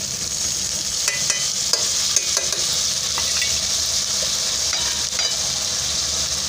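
Okra curry with tomato stirred in a hot pan, a steady sizzle with the spoon scraping and clicking now and then, up close and with no talk.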